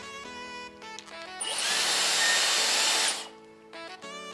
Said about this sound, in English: So let's start blow drying.